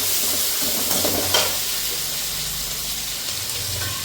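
Steady, close sizzling and crackling of curry leaves frying in hot oil, continuous and fairly loud, with no talking.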